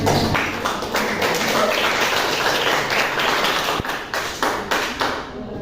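Students in a classroom applaud a group presentation with sustained, lively clapping that thins toward the end into looser, scattered claps before fading out.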